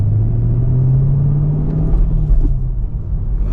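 Chevrolet Camaro engine with a factory skip-shift feature pulls loud and close as it accelerates through the gears, a steady rising drone that holds, then dips and rumbles around a shift.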